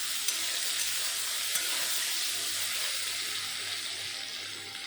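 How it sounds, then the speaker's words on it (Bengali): Potatoes and eggplant fry in a wok with a steady, dense high sizzle and crackle, close and continuous, with a faint low hum underneath. "আলু আর বেগুন ভাজা হয়ে গেছে,"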